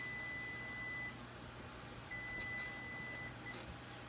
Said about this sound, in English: The timer's almost done on these over here.